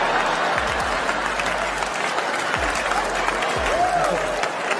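A studio audience breaks into sustained applause and loud cheering, steady and dense throughout, with faint low thumps underneath.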